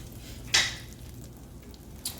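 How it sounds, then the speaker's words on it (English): Butter melts in a pan for a lemon caper chicken piccata sauce, making a quiet, close sizzle broken by two sharp metallic clinks of a utensil against the pan. "we're going to melt about 2 tablespoons of butter. So let's go ahead and let that melt."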